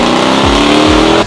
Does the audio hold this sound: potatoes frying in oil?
no